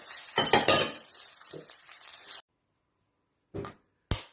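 Carrots added to a frying pan for egg fried rice and stirred: a sizzle with clinking utensil scrapes against the pan, loud and close, cutting to silence and then two short separate scrapes.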